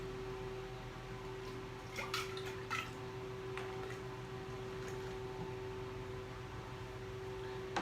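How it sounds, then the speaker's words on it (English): Rehydrated yeast is poured into smoked maple porter wort and stirred: a few small liquid splashes and drips sit over a constant low background hum, with no talking. "we rehydrated our yeast. So we'll pour that in."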